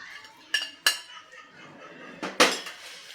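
Roasted puffed rice and jowar puffs tipped into a bowl and mixed for gopalkala, a few sharp metallic clinks and a rattling pour of dry grains against the bowl, close and otherwise quiet.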